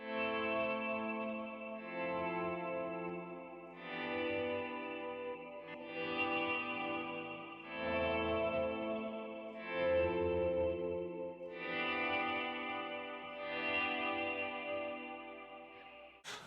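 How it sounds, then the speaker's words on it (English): Sustained electric guitar chords from an auto-swell effect swelling in softly with no pick attack, washed in shimmering chorus and long reverb, slow and dreamy throughout. "I have the auto swell into a chorale kind of reverb"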